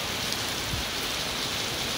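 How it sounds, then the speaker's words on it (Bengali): Heavy rain pours steadily outside a busy parking lot during a thunderstorm, a dense, even hiss of falling water close by with no distinct thunder clap standing out. "খুবই হ্যাভি ওয়েতে বৃষ্টি হচ্ছে এবং থান্ডারস্টর্ম হচ্ছে"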